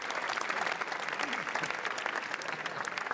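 A crowd on the Cannes red carpet applauds actor Dominic West, a continuous, thick wash of clapping with no break.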